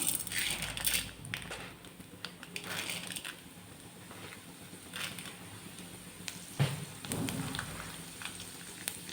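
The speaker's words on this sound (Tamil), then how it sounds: "இப்போ பார்த்தீங்கன்னா எண்ணெய் காஞ்சிருச்சு உளுந்து பருப்பு கொஞ்சம் சேர்த்துக்கிறேன்" Urad dal dropped into hot oil in a pan, crackling and sizzling up close with scattered sharp pops over a steady frying hiss.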